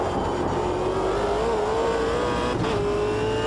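A V8 Supercar engine in the racing game Automobilista 2 holds a steady, loud, close drone that wavers slightly in pitch as it runs, with a brief shift change near the end and no voices.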